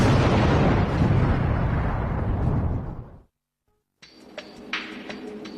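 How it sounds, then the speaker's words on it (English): Replica of the largest cannon of 1453 fires a huge explosive blast that rumbles and decays over about three seconds before cutting off, then a quieter section follows. "Our experts will recreate the explosion that changed the world."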